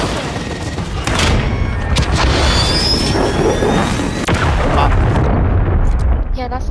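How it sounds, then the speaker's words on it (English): A Drake missile strike detonating in a shooter video game: loud, sustained rumbling explosions and blasts roll on for several seconds, mixed with gunfire, and a voice speaks over the din. "I'm gonna call in my Drake missile."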